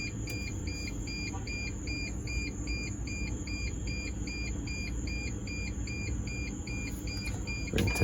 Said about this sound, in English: We can take that key out so it doesn't keep beeping.